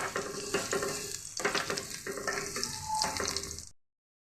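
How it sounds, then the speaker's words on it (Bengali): Fenugreek seeds frying in mustard oil give a bright, continuous sizzle with clinking stirs and scrapes of a spoon against the pan, close up, ending abruptly in silence. "ফোড়নটা আমার ভাজা হয়ে গেছে।"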